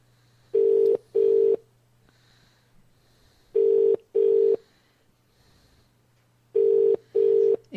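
A Skype call rings out in repeated pairs of steady tones separated by pauses, three double rings in all over a faint background hum.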